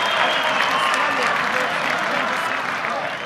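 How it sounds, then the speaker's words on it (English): A boxing crowd at the end of an eight-round heavyweight bout, Toese Vousiutu versus Kiki Leutele, applauds in a loud, continuous roar of clapping and cheering that fills the arena without a break, with a ring announcer's voice faintly underneath. "can we have a round of applause for these two heavyweights?"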